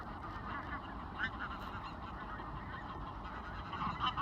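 Pink-footed geese calling on a frosty sunrise morning by a canal, a steady chorus of honking from a large flock, continuous and fairly loud, with no voices.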